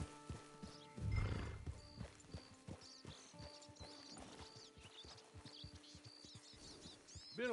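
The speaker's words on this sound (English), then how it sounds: "It's your horse." Hooves clip-clop quietly around a camp in the Red Dead Redemption 2 Online video game, a horse moving with a louder burst early on, faint game ambience and birds in the background.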